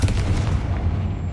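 A Confringo spell explodes in a video game inside an abandoned mine, a single deep booming blast with a rumbling tail that fades over about a second.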